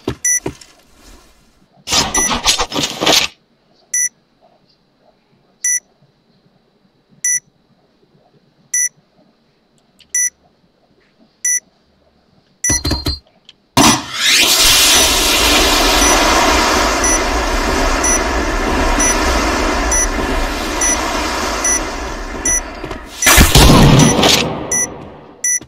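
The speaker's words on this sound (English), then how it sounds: "bomb has been planted" Planted bomb in a video game ticking out sharp, evenly spaced beeps amid quiet, then a loud sustained explosion roar that fades after several seconds.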